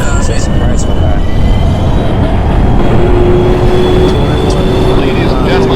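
A New York subway 1 train sits in the station, steady loud rumble and hum filling the space, with a thin whine rising partway through and an announcement voice speaking over it.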